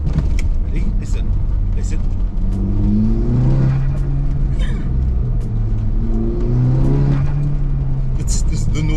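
A stage 2 tuned Audi TTS engine revving loudly close by, with repeated rising and falling rev sweeps and a deep rumbling exhaust, continuous and dominant.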